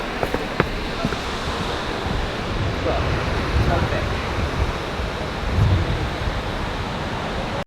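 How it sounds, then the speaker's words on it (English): Outdoor ambience beside a canal in the evening: a broad, steady wash of wind and water-like noise with some gusty buffeting on the microphone, no clear voices. "So we're down by the canal."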